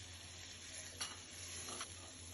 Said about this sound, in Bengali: সব মশলা আলাদা আলাদাভাবে দিয়ে আমি ভেজে নিচ্ছি